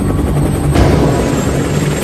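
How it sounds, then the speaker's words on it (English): Four helicopters carrying a rescue team lift off and depart Fort Bliss, a loud, steady, close rotor roar with a rumbling low end that holds throughout, with no voices. "4 helicopters with team members aboard depart Fort Bliss."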